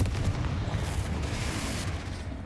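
Bombarda and Confringo spell blasts in Hogwarts Legacy combat: a dense, continuous barrage of loud booming explosions and crackling bursts, heavy low rumble throughout, no talking.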